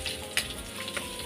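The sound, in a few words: tomatoes frying in a pan for escabeche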